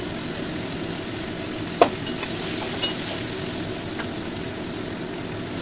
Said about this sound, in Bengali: এবার এঁচোড়ে যে আলুগুলো দেবো সেগুলোকে ভেজে নিচ্ছি